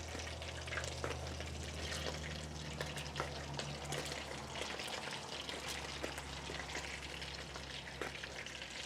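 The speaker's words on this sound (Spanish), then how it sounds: "Ahora voy a poner los chiles güeros a dorar un ratito." Whole yellow chiles güeros frying in hot oil in a pan, a steady close sizzle with small crackles and pops that runs unbroken throughout, with no voices.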